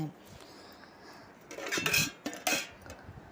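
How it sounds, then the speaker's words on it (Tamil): A metal plate is set as a lid over a chicken biryani pot, giving a couple of clanking, scraping metallic knocks against the rim, close and moderately loud. "நல்லா மூடி தட்டை போட்டு மூடி விட்டுடுவோம்"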